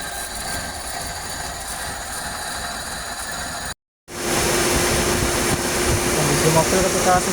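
A 2004 Suzuki Karimun idles steadily with its radiator fan spinning fast, giving a constant close mechanical whir and engine hum that briefly cuts out and then returns slightly louder.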